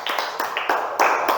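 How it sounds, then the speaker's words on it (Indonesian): Children in a second-grade classroom clap for a classmate, a short burst of quick, fairly faint claps with no talk. "Oke, beri tepuk tangan buat Okta"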